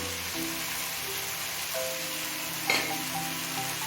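Chopped capsicum and carrot sizzling in a pan with hot oil, a moderate steady frying hiss with occasional stirring scrapes and a brief clink.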